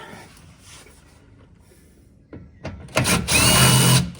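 Impact gun whirring on splash shield screws under a 2014 Ford Fusion during an oil change, a short burst then a loud sustained run near the end, close up after quiet handling noise.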